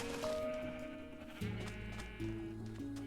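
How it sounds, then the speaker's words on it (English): Sheep in the video game Minecraft bleat several times in a row, clear wavering cries close up over a faint steady background, with no talking. "Hello, sheep."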